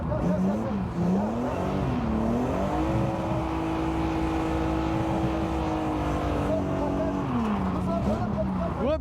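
A learner car's engine revs and pulls steadily through a lesson in a village, its tone climbing and holding, with the instructor talking over the constant engine drone.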